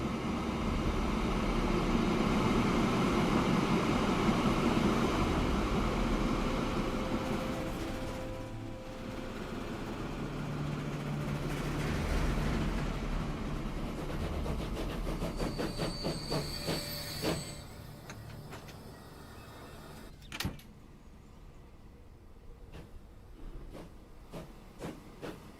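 A freight train runs in the Transport Fever 2 video game, with a loud steady rumbling roll that fades away, then sparse clicks and clanks as things quiet down.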